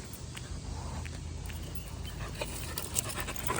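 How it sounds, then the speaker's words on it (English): A Boxer dog pants steadily at a campground, with quick rhythmic breaths, faint whimpers and some shuffling footsteps close by, outdoors with no talking. "So he's acting like a crazy dog."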